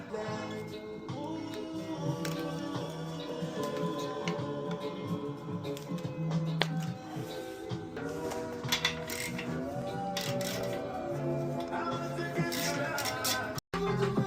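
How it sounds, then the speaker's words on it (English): Mechanical clicking, ratcheting and metallic tool sounds come from an e-bike wheel being dismantled during a spoke repair, where the brake rotor is worn thin. The clatter is fairly loud and continuous, close up, with brief gaps and no talk. "So let's start by taking this apart."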